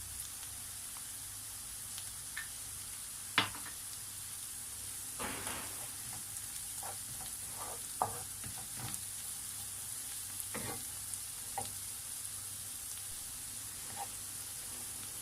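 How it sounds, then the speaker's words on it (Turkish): Onions and peppers sauté in a pan with sweet paprika for green beans with bulgur, a constant soft sizzle broken by occasional sharp clicks of a spoon against the pan. "Güzelce kavrulan soğan ve biberimin üzerine tatlı toz kırmızı biber döküyorum."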